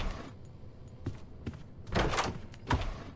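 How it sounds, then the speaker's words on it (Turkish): A door in the Roblox horror game Doors swings open on its own, heard as a few dull knocks and thuds, building to a louder creaking burst near the end, with no talking. "O kapıyı ben açmıyorum kapı kendisi açılıyor ya."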